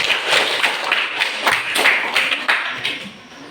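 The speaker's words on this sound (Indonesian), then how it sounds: "Beri tepuk tangan." Classroom applause as students clap for a group after its presentation, a dense and steady patter of many hands at close range that continues for several seconds with no talk over it.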